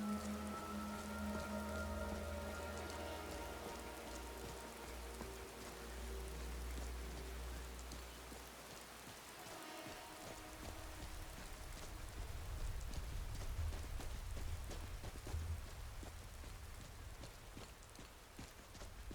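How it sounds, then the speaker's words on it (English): Steady rain pours down in the video game Apostasy, a dense continuous hiss of drops on surfaces with a low rumbling undertone, even and fairly quiet throughout with no talking. "we got rain coming down."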